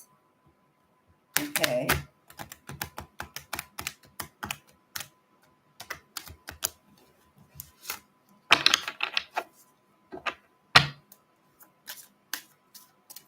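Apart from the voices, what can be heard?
shuffling tarot cards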